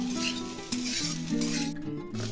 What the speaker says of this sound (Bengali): নুন দিয়ে নেড়ে নিচ্ছি।